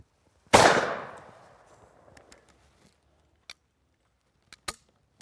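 A Miroku MK11 shotgun fires a single loud, close shot outdoors, its sharp crack trailing into a long decaying rumble, followed by a few faint clicks and small knocks.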